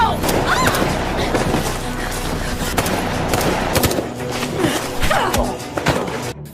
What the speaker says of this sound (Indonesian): Seorang pria bersenjata kemudian masuk dan langsung menembak